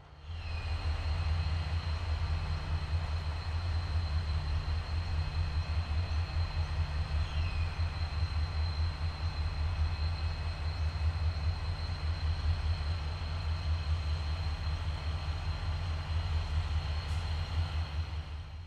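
Vintage EMD diesel locomotives with 16-645E3 prime movers rumble steadily as they haul an SCT intermodal freight train toward Mount Lofty station, a deep, continuous throbbing drone with a faint high whine above it and no talking.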